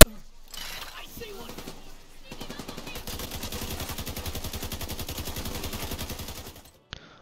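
Automatic gunfire in the video game Division 2, a long rapid burst of shots firing in steady rhythm for several seconds after a quieter start, fairly close and loud, ending with a single sharp shot.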